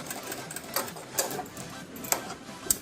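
Sewing machine stitching a blouse, fast close mechanical rattling with a few sharper clicks, running steadily throughout.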